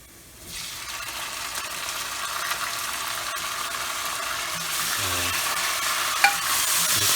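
Browned onion being stirred in a frying pan with added ingredients for brown rice with chicken, a steady close sizzle running throughout with soft scraping stirs over it and no talking.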